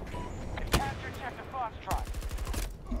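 Sharp, loud blasts from a cannon in the shooter Battlefield 2042, two of them, the second trailing into rapid gunfire amid the noise of battle.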